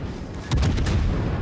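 In World of Warships, the cruiser Des Moines fires high-explosive shells in a quick volley of loud, booming gunshots, several close reports stacking into a dense rumbling blast over steady background noise.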